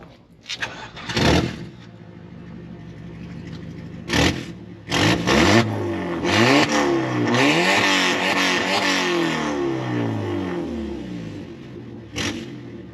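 A 2-litre BMW E46 engine cranks and catches after a few tries, then revs up and down repeatedly with a throaty growl, loud and close, with brief voices in between.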